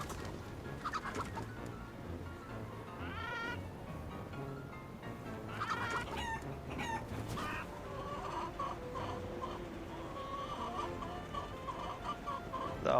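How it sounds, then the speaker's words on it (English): A chicken clucks in repeated short, bright bursts against a constant background hiss, with no one speaking. "There'll be a chicken there."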